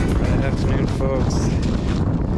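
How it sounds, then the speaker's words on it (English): Strong wind buffeting the microphone on a hiking trail on a chilly 46-degree afternoon, a loud continuous roar with gusty swells and no speech. "The wind has picked up a little."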